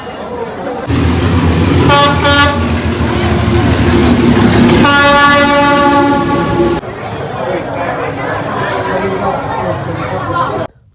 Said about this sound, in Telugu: ట్రైన్ వస్తుందంట చూడండి